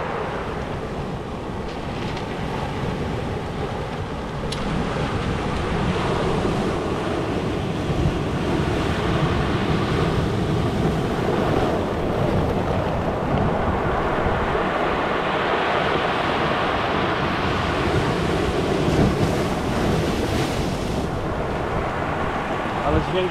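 Sea waves wash steadily over a pebble beach in Cyprus, a continuous rushing hiss with gentle surges, mixed with wind buffeting the microphone.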